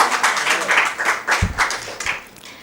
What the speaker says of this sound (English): A big clap for yourselves.